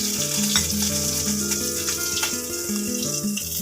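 Koi fish frying in hot oil in a kadai, a steady loud sizzle running the whole time with faint scrapes as the fish are lifted out, over background music.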